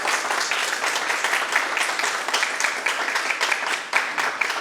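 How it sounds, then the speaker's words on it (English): Sustained applause from an audience at a morning talk event, many hands clapping together in a full, even roar. "I think we should just give them a round of applause for what they've done."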